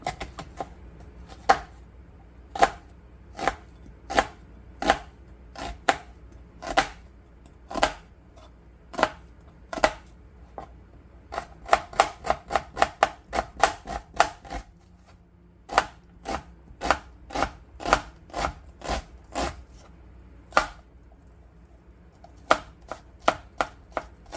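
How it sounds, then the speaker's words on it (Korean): A knife chops onion on a cutting board for a tortilla sandwich, giving steady, crisp, close knocks in uneven runs with brief pauses and no talk. "그럼 먼저 야채를 썰어 볼게요"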